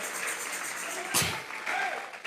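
Church congregation gives a short burst of applause, quiet and brief, mixed with room noise.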